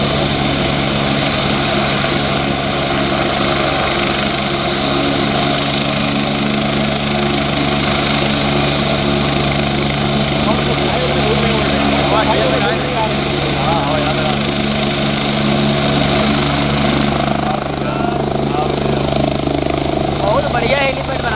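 A helicopter at a helipad runs loudly and steadily throughout, its engine and rotor drone filling the scene while people talk over it.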